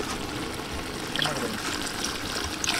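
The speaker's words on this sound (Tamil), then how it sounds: "அடுத்தது நம்ம பீஃப் கறி அவிச்சு எடுத்து வச்சா தண்ணி ஊற்றுறோம்." Water is poured into boiled beef curry for a Kerala-style gravy, a steady close splashing trickle that runs for the whole stretch without pauses, with no voices over it.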